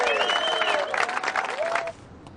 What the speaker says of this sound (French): S'il vous plaît, sous vos applaudissements